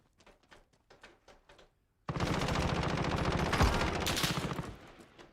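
Sustained automatic gunfire in a video game erupts loudly after a few quieter tapping shots, continuing as a dense rapid rattle to the end.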